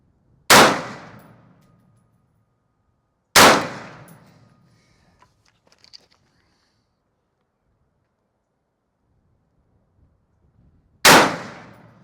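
Three loud, sharp gunshots from a Daniel Defense M4A1 rifle with a Trigger Tech trigger fired with iron sights, spaced a few seconds apart, each with a short decaying echo, the third after a longer pause.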